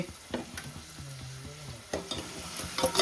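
Hot oil crackles and sizzles as spices temper in a pan for a Malvani-style clam curry, with a few sharp scrapes and pops, close and fairly loud.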